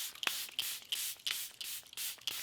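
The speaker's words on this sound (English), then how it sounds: "I'm gonna go ahead and go into the setting spray I'm thankful for, which is my Charlotte Tilbury Airbrush Flawless Setting Spray." Charlotte Tilbury Airbrush Flawless Setting Spray misted from its bottle onto a made-up face: about seven quick, soft, hissing spritzes in a steady rhythm, close but quiet.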